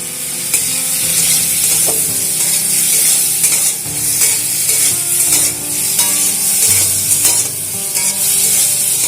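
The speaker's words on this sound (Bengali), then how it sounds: "একটু হলুদ আর একটু সামান্য লবণ দিয়ে চিংড়ি মাছগুলোকে ভেজে নেব।" Shrimp seasoned with turmeric and salt sizzle loudly in a hot pan while a utensil stirs and scrapes, and faint music plays underneath.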